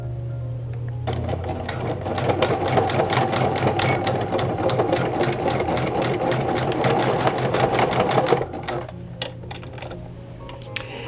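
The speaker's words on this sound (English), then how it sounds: "Take it over to the machine, because now we're going to run a seam, about a half an inch in, right along here, and get it sewn." A sewing machine stitches a seam about half an inch in along the elasticized waist of a pair of pants, its needle chattering in a fast, steady rhythm for several seconds before stopping abruptly.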